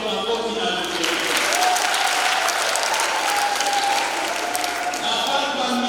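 A church audience at a children's First Communion question-and-answer event in Kijenge parish, Arusha, breaks into sustained clapping while high, wavering ululation rises over it, mostly in the middle stretch.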